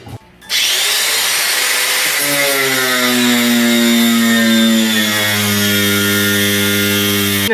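A hand grinder cuts an opening into a large 17-ton aquarium tank, starting after a brief quiet moment and rising into a loud, sustained whining drone whose pitch slides gradually as the blade bites.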